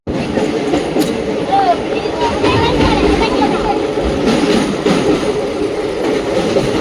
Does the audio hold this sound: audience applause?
no